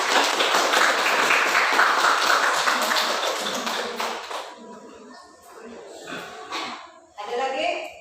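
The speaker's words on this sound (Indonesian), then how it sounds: "Beri aplaus dulu untuk teman kita yang menjawab." Classroom applause for a student who answered a question, a burst of many hands clapping together that fades after a few seconds into scattered claps and quiet room noise.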